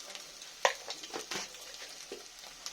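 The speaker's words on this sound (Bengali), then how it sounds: "ডিমটা আমি একটু ভুজিয়া করে ভেজে তুলে নেব।" Scrambled egg bhujia frying in a pan gives a soft, close sizzle broken by a sharp clatter and a few scraping stirs of the spatula, quiet and without voices.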